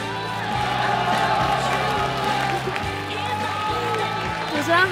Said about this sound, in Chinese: 掌声有请下一位告白者